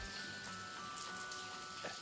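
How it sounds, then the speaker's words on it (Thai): Steady rain falls on a garden of sweet krachiao flowers planted beside banana plants, a soft continuous wash of drops with a few slightly louder patters, with no voices. "ฝนกำลังตกปล่อย ๆ กันอยู่"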